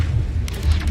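Arresto Momentum spell cast in Hogwarts Legacy, a deep booming rumble with a brief whooshing flare midway, heavy and loud throughout its short length.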